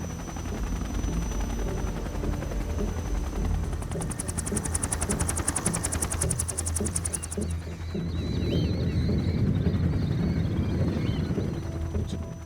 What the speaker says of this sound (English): 4 helicopters carrying that thing out.